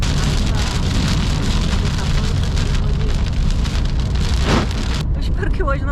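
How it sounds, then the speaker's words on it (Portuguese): Heavy rain pouring on a farm near the Argentina–Brazil–Paraguay border, a dense, loud steady hiss of drops drumming on surfaces, cutting off abruptly near the end into quieter dripping. "Começou a chuva. Que maravilha."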